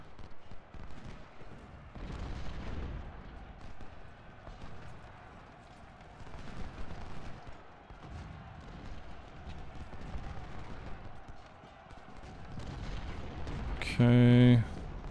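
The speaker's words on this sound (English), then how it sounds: "Don't just let your back get hit by enemy artillery." Enemy artillery and musket gunfire in a Civil War battle in Ultimate General: Civil War at Cold Harbor, a dull, distant rumble of cannon and scattered shots under steady battle ambience, with a brief sharp electronic tone near the end.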